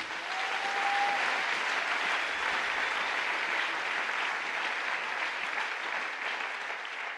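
A church congregation at the closing of a seminar bursts into loud, steady applause that continues evenly throughout, a dense wash of clapping from many hands.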